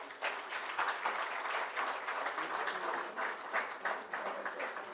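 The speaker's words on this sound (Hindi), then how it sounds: "एक बार मैं चाहूँगा आप लोग जोरदार तालियों से पीयूष गोयल जी को धन्यवाद दें।" An audience at a record label event gives steady, dense applause, many hands clapping together for five seconds, even and moderately distant with no talk over it.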